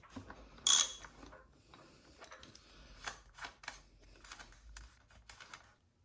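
A 22 mm nut on a Yamaha WR250R front fork is worked loose with a wrench, giving a sharp metallic click followed by a string of small ratcheting and tool clicks, close and fairly quiet.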